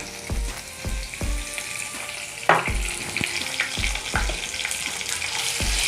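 Ginger garlic paste and curry leaves frying in hot oil on low flame for misal, a bright crackling sizzle with regular low thuds of a spatula stirring, one sharper splutter midway, close and alone.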